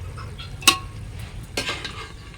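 Chunks of turkey meat go into a pot for biryani: a sharp clatter, then a softer wet slap and stirring a second later over a low kitchen hum, with no talking.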